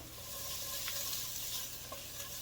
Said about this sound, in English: so now we're going to add our onions right inside. Let them all cook